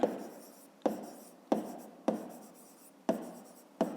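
Pen strokes scratch out a maths solution on paper, six sharp marks spaced less than a second apart, each fading quickly, close and fairly quiet with no voice.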